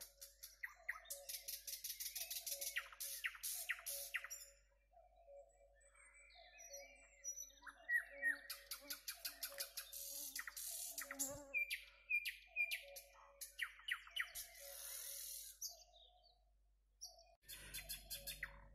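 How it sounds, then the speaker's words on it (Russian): Birds singing in a forest on a warm late-May evening, with a nightingale among them: continuous layered chirps, trills and rapid repeated phrases, close and lively, with a brief pause partway through and a soft rustle at the end. "Эти дни стоят теплые, и птицы поют кто как может."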